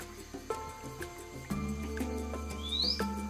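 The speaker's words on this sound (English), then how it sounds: "The wire-tailed manakin." Wire-tailed manakin in South American forest, giving sharp chirps and a rising whistled call over a steady insect and forest hum, moderately close.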